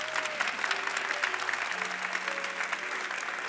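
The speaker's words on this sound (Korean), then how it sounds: "박수로 축복해 주십시오" Church congregation applauding during a Thanksgiving Sunday service, a fairly soft, continuous patter of many hands with sustained low musical tones underneath.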